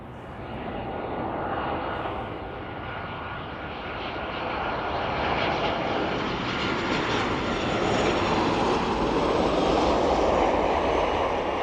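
A Boeing 777 jet touches down at East Midlands Airport on runway 09, with a steady, broad engine roar that builds gradually and holds loud and close throughout, with no talk over it.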